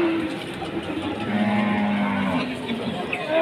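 A large Pegon cow at a livestock market in Pati gives a long, loud, close moo, with crowd noise underneath.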